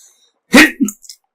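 A single sharp sneeze close to the microphone, a loud burst followed by a couple of short, quieter trailing sounds, then silence.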